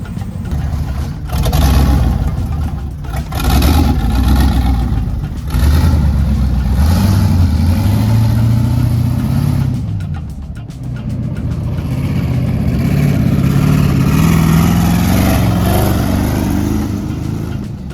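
Engine of a Chevy Tahoe with a Lamborghini Urus body swap, loud and near, revving up and down with rising and falling pitch sweeps over a constant rumble, with a brief gap midway and no talk.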